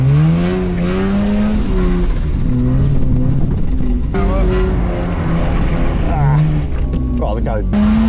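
A car drifts on a track drift day, engine revving and tyres squealing in long rising and falling sweeps, loud and close, with someone talking over it throughout.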